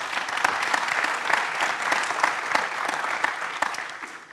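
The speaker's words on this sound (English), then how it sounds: "please join me in a round of applause for Rana" An audience claps loudly and continuously for a speaker at a talk, a dense steady applause from a sizable crowd that begins to taper off at the end.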